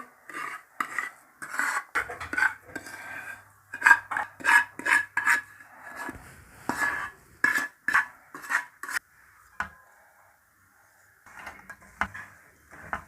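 Roasted urad dal and moong dal flours are rubbed and mixed together by hand in a metal vessel for winter gond laddoos, making repeated rhythmic scraping strokes in bursts with short pauses. No speech.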